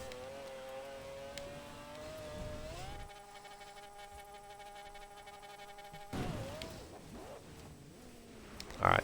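A Toyota Supra engine in Forza Horizon 4, a faint whining drone that rises in pitch, shifts to a steadier hum, then revs up again before a sharp bump at the end.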